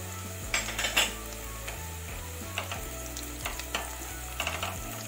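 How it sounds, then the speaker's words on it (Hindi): Onions and green chillies fry in a pan, a soft continuous sizzle with occasional clinks and scrapes of a spoon stirring against the metal, close but quiet, no speech. "अच्छे से फ्राई कर लें ऑनियंस को, और अच्छे से फ्राई होनी चाहिए।"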